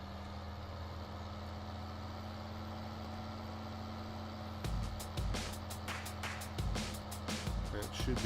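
A farm vehicle in Farming Simulator 17 releases its handbrake and pulls away, a steady engine hum giving way to louder revving with clicks and clunks as it sets off, up close.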